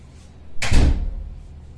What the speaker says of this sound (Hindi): मेरा दरवाजा भी बंद कर दो।